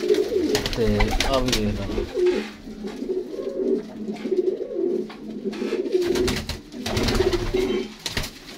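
Pigeons cooing at a breeder's loft in Faisalabad, with repeated soft throaty calls layered under someone talking nearby throughout.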